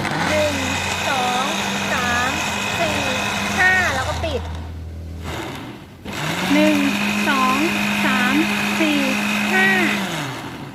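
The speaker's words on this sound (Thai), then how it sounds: "ให้คุณผู้ชมเลือกปั่นระดับที่ต่ำสุดนะคะ แล้วก็ปั่นแค่ช่วงสั้นๆ" A kitchen blender blends a yanang leaf herbal drink on its lowest setting: a steady high whirring motor runs for about five seconds, stops briefly, then starts again for a second run, loud and close.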